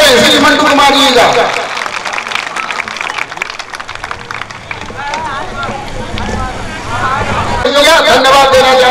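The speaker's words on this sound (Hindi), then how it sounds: "एक जोरदार तालियों के साथ स्वागत करें श्री मंटू कुमार जी का" A large audience applauds loudly to welcome guest Mantu Kumar onto the stage at a ceremony honouring students, with dense, sustained clapping that dips slightly mid-way and swells again at the end, mixed with crowd murmur.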